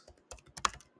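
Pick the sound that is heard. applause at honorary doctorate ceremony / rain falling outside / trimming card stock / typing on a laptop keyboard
typing on a laptop keyboard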